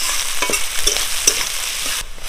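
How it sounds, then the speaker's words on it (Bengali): Chopped onion and green chilli fry in mustard oil in a kadai, giving a steady hiss while a spoon stirs and scrapes with a few soft knocks over about two seconds, close and unaccompanied. "নাড়াচাড়া করে ভেজে নেব।"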